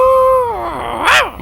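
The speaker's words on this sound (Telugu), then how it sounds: "ఏదో కుక్కరుపులా వినిపిస్తోందేంటి" A dog lets out a long, steady whine that bends and falls into a strained, rising yelp, loud and close.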